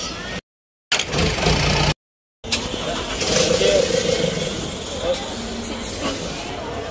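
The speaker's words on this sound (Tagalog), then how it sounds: "Traffic in the floating market." Motorboat traffic churns along the crowded canals of Damnoen Saduak floating market in Thailand, a close, steady engine rumble with hissing wash, broken by two short silent gaps, while people talk nearby.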